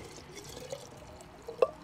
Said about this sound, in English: what I do is of course pour it into the quart jar